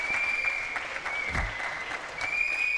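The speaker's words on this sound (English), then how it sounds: "Oh, the crowd are appreciating this one." An audience claps in appreciation at a professional table tennis match, a steady burst of applause lasting a few seconds with a faint, constant tone running beneath it.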